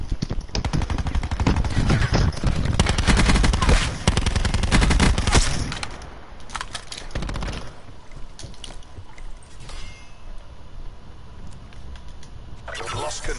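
Rapid automatic gunfire from the Black Ops 4 shooter game rattles in dense bursts, loud at first and then thinning into scattered shots, with a player's voice talking over the game sounds.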